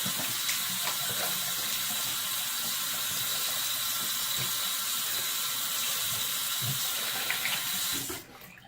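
Water runs steadily from a bathroom tap into a sink for a rinse after a double-edge shave, a close, constant splashing flow that continues for several seconds, then cuts off near the end.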